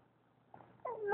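A cat gives a short rising meow close by, starting with a faint chirp and swelling into a louder drawn-out cry at the end, with no other sounds around it.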